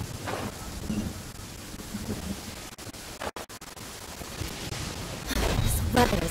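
Thunder and rain in the video game Genshin Impact: a steady hiss of rainfall broken by deep rumbling thunder, with a brief dropout midway before a louder burst of storm near the end.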